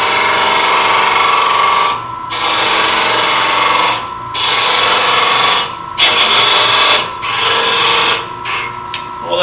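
Wood lathe turning the lid of a miniature nesting box, a steady whirring spin broken by repeated bursts of harsh tool-on-wood cutting and scraping, close and loud with brief lulls between passes.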